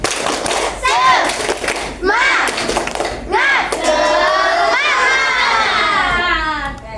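Children in a classroom perform a rhythmic spirit clap, with bursts of clapping and thumps alternating with loud excited chanting and cheering voices.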